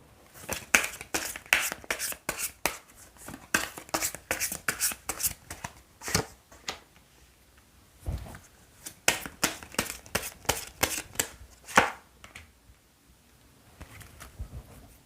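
Tarot cards shuffled and drawn by hand in bursts of crisp riffling and slapping, two long runs separated by a brief pause and a few soft taps, close and fairly quiet with no talk.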